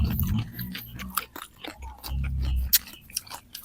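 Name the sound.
chewing crunchy food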